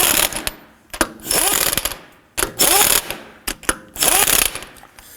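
Ratchet snugging lug nuts on a 2005-2009 Subaru Legacy wheel, three bursts of close mechanical ratcheting clicks separated by brief pauses and softer handling sounds.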